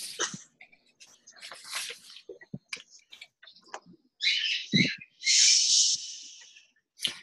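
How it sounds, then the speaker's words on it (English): Bright, high chirps and tweets from a small bird come in short bursts, growing louder and more sustained toward the end, with brief quiet gaps between calls. "Listen, it's your bird."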